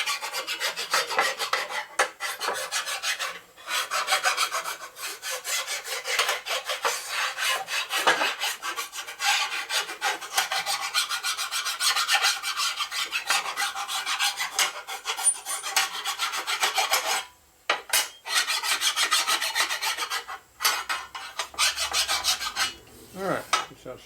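A flat file rasps back and forth across the metal surface of a broken Harley-Davidson Shovelhead FX inner primary being repaired, a loud, continuous gritty scraping in steady strokes with a few brief pauses.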